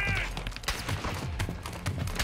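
Gunfire in the Call of Duty video game: a quick string of sharp, loud shots crack one after another over a rumbling background.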